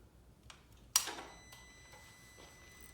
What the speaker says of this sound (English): We'll shove the key in and make sure the light works before we put the bezel back on.